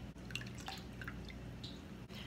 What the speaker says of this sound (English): So here's my lemon juice, and I'm going to add that to my water.